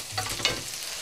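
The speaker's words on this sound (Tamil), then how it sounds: "இந்த முருக ஆரம்பித்ததும் இந்த இதை போட்டு விட்டுருலாம் பூண்டை. அதுவும் நல்லா வேகட்டும்." Garlic frying in a pan with dried tuna thokku, a brief soft sizzle with a light stir scrape, quiet and close.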